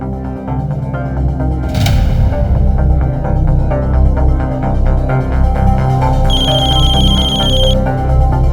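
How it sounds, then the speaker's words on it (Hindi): A mobile phone keeps ringing unanswered with a repeating electronic ringtone, loud and near over a low throbbing hum, followed by a brief higher beeping tone near the end. "दीदी फोन नहीं उठा रही।"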